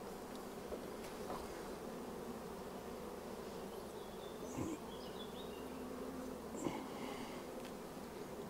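A dense honeybee colony hums steadily from an opened hive while frames of brood are inspected, with individual bees buzzing close past in brief louder swells.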